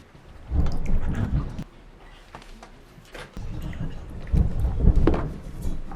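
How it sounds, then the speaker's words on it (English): A film scene carries steady rain with rumbles of thunder, two heavier bursts of low rolling noise rising over a constant patter of falling water, fairly quiet overall with no voices. "Well, looks like the rain's let up a bit."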